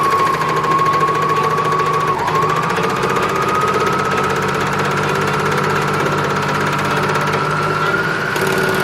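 A Juki serger stitching through layers of denim, a continuous fast whirring motor buzz that holds steady and shifts pitch slightly near the end, close and loud with no talking.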